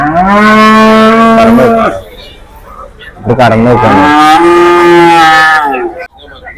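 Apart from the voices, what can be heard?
milking cows mooing on a farm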